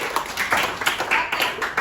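A classroom of students claps for a classmate during a lesson, a brief, close burst of uneven hand claps with no talking.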